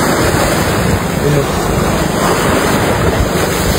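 Rough, continuous roar of churning surf in a typhoon mixed with gusting wind noise, loud and steady throughout with no pauses.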